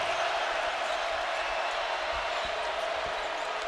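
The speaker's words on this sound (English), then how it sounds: "Crowd to its feet with the Hogs on defense." Crowd noise fills a basketball arena as fans rise to their feet while the Arkansas Razorbacks defend against Tennessee, a steady broad roar with a few faint ball bounces underneath.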